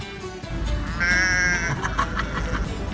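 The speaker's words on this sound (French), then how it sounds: "Au mouton!" A single sheep lets out a drawn-out bleat from moderately close by, heard over a steady low rumble of background noise in a rural setting.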